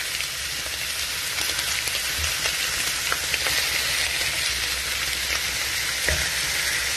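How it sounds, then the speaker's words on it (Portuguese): Beef sears in a hot pan while a dark beef stock is being made, giving a loud, continuous sizzle and crackle with small pops throughout and no voices. "aqui eu vou estar adicionando a carne para ela selar bem"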